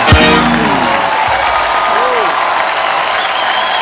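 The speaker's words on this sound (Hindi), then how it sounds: "फिर एक बार जोरदार तालियां हो जाए" Studio audience applause on The Kapil Sharma Show, a loud, dense roar of clapping from a large crowd in a comedy studio, beginning with a brief musical sting and carrying on steadily throughout.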